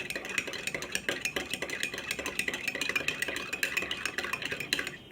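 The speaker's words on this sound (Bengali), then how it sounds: "ভালো মতো নেড়ে নিলাম" A spoon stirs coffee with sugar in a cup, clinking rapidly and rhythmically against the sides in steady close strokes that run the whole time.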